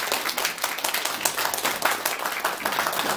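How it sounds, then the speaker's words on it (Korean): An audience at a formal event in a hall claps warmly to welcome a speaker to the front, a dense, even patter of many hands that continues throughout, without voices. "나오실 때 뜨거운 박수로 환영해 주시면 감사드리겠습니다"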